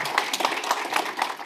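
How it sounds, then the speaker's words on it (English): Audience clapping at a FinTech conference in Leeds, a steady patter of many hands from a moderately sized crowd, fairly close and with no talking. "A big round of applause for Mike"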